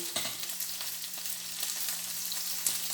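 Chicken with pepper and grated coconut fries in a pan, a steady soft sizzle with occasional scraping stirs and a faint background hum.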